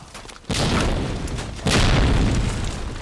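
Two loud, close grenade explosions in a video game, a deep boom at half a second and a second heavier blast just past one and a half seconds, each trailing off into rumble.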